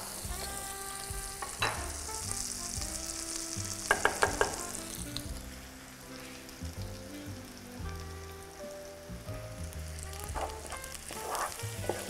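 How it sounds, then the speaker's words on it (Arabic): Flour is stirred into melted butter in a pan with spinach for a crêpe lasagne, giving a soft steady sizzle and light scraping under background music. "نخلطوا دونك الفارينة في الزبدة."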